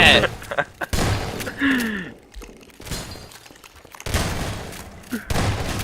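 A gunshot headshot in a Garry's Mod Prop Hunt match sounds as a few sharp, loud cracks and crashes, mixed in with game effects and people talking.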